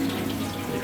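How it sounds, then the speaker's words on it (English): Steady tap water runs into a sink at a handwashing station on a family farm park, a continuous close rushing stream with no pauses. "Now wash your hands."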